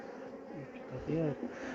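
Honeybees buzzing in a steady low drone, close by at an opened hive during a spring inspection, with a brief louder swell near the middle; no voices.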